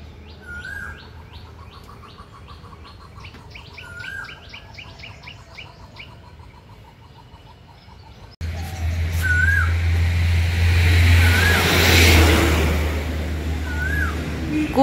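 Road traffic on a Bangladeshi village road: clear birdsong and whistled calls first, then loud, steady roar of passing vehicles with a low rumble that swamps the birds for the last six seconds.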